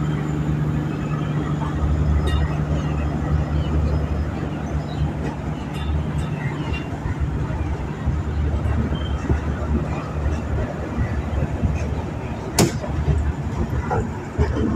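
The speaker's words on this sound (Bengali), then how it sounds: "ট্রেনটা ভালোই চলেছে।" Kolkata–Guwahati Garib Rath Express passing, a steady loud rumble of wheels and carriages on the rails with a continuous low drone, one sharp clank near the end.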